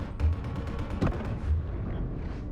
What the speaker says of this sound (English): Who's dropping these bombs? How are they blowing up?